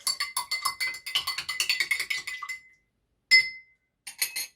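A spoon stirs homemade rose-petal perfume in a glass, giving a quick run of bright, rhythmic clinks against the glass, a pause, one sharp ring, then a few more taps, close up and alone.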